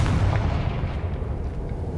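A Confringo fire spell goes off in Hogwarts Legacy, a heavy booming blast with a deep rumbling low end that stays loud and rolls on for about two seconds, with no voices.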